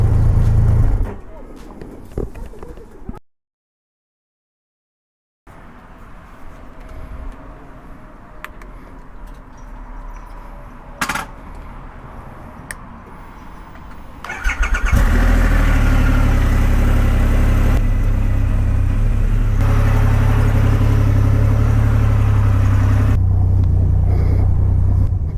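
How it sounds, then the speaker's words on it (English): A Triumph Rocket 3 R Black Limited Edition motorcycle fires up after a brief silence and settles into a loud, deep, steady idle rumble close by, with earlier quieter background noise. "I've got my Rocket 3R. It's a beautiful bike."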